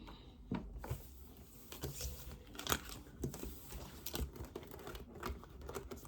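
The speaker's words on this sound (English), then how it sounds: "Let me get some tarot cards." Tarot cards handled up close, with quick papery flicks, taps and light rustling in an irregular run and no talking.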